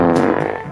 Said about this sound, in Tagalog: May umutot.